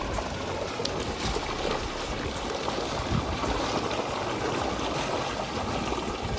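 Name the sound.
cold water flowing out of a pipe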